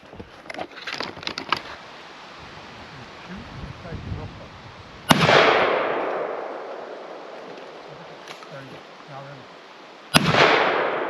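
Two loud shotgun blasts fire in succession at bird targets outdoors, each a sharp crack with a long trailing boom, about five seconds apart, after some earlier handling clicks.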